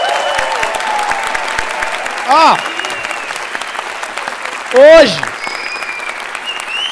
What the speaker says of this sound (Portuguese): Gostaria que todo mundo aplaudisse esse quadro maravilhoso